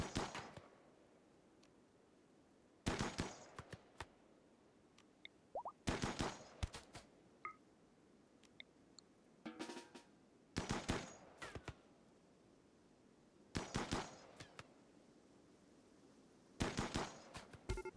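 Assault rifle fire in RimWorld comes in short, sharp automatic bursts, about six volleys spaced a few seconds apart, each a tight cluster of crisp cracks over a quiet background.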